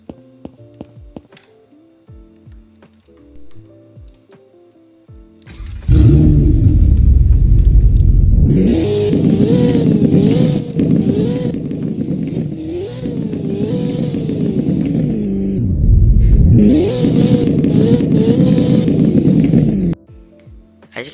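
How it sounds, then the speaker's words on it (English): A car with dual exhaust starts up in a Roblox video game and revs loudly for about fourteen seconds, the engine pitch rising and falling across several throttle blips before cutting off. "let's give this thing a quick startup and hear how this thing sounds."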